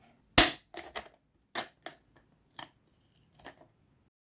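Scissors cutting through a thin plastic container to make a small flower pot for violets or orchid offshoots, a series of sharp, crisp snips close up, one loud cut followed by several quieter, irregularly spaced ones with no talk.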